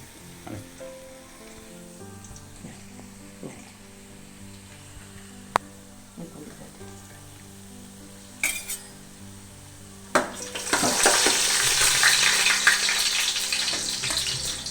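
Raisins, cinnamon and cloves sizzle in ghee in a pan for ghee rice, a quiet crackle with light stirring and utensil clinks that swells into a loud, steady frying hiss after a fresh addition hits the hot pan.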